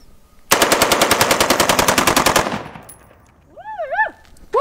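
Full-auto gun fires one long, loud, rapid burst of closely spaced shots outdoors, then stops; a few shrill whoops follow near the end.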